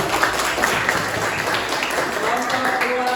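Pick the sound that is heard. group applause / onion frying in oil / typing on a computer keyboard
group applause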